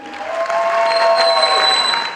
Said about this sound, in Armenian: Ես ուզում եմ բարձր ծափահարենք մեր նորապսակներին։